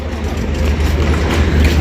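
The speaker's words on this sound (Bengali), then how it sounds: "এই যে ট্রেন চলে যাচ্ছে আমাদেরকে ছেড়ে, ট্রেন দেখাচ্ছি বন্ধুরা, এই দেখেন ট্রেন চলে যাচ্ছে।" The Drutojan Express passenger train leaves Setabganj station, a loud low rumble of engine and wagons rolling steadily close by.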